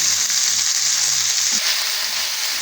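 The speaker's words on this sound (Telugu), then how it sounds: "పుంటికూరని అయితే ఆయిల్లో ఈవెన్గా కలుపుకొని ఒక 5 మినిట్స్ పాటు మగ్గించుకుందామండి" Red sorrel leaves fry in hot oil with a steady, loud sizzle and crackle close by, and a brief stirring scrape partway through.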